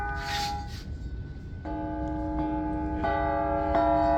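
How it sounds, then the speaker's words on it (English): A cast Sabian cymbal is struck several times and rings out with a sustained bell-like tone, the metallic shimmer building with each hit into a resonant, church-bell-style hum in a factory setting. "Church bell"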